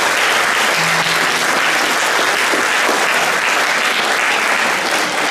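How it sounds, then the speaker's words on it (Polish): An audience at a Polish regional conference marking Foster Parenthood Day in Olsztyn claps in loud, sustained applause that stays dense and even from start to finish. "Duże brawa, drodzy Państwo."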